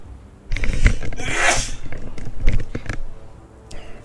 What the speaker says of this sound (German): Ein Nieserchen.